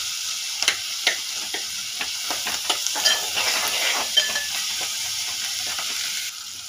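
Curry leaves and ginger garlic paste fry in a pan for ridge gourd dal, giving a steady close sizzle broken by sharp scraping clicks as a spoon stirs through them.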